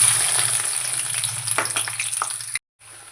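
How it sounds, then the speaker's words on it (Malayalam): Chopped ginger and garlic sizzle loudly in sesame oil with popped mustard seeds, a dense crackling fry with a few sharper spits before the sound cuts out briefly near the end. "കടുക് പൊട്ടിയ ശേഷം നമുക്ക് അരിഞ്ഞ് വെച്ചിരിക്കുന്ന ഇഞ്ചി വെളുത്തുള്ളി ചേർത്ത് കൊടുക്കാം"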